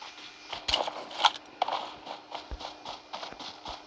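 A donkey's hooves clip-clop in an irregular trotting rhythm in the PUBG battle game, close and moderately loud, with scattered sharp clicks and no talk.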